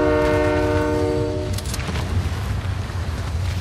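A Fortnite train sounds a sustained multi-tone horn that cuts off after about a second and a half, leaving a steady low rumble of rolling rail cars with faint clatter.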